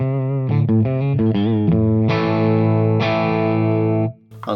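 A late-1990s Mexican Telecaster electric guitar with a G bender, played on the bridge pickup through an overdrive pedal: a quick run of gritty single notes, then two loud sustained distorted chords ringing out before fading.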